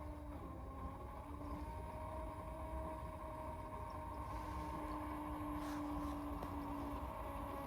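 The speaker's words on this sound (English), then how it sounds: "You hear it push that fuel back into the tank?" Diesel fuel pump pushing fuel back through the return into the tank, a steady low mechanical whir and hum with faint whining tones, continuous and fairly quiet throughout.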